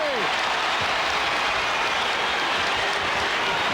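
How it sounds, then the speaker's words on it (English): Chicago fans in an Indiana arena applaud the Bulls during a 1995 Bulls–Pacers NBA game, a steady wash of clapping and crowd noise filling the whole stretch at moderate loudness. "And you can hear the Chicago contingent applauding the efforts of the Bulls."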